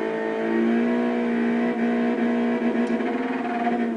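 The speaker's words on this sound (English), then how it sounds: "if I just rev the engine here" Car engine revving in the iRacing sim racing game, a steady buzzing drone that swells slightly then holds at a constant pitch, continuous and alone for several seconds.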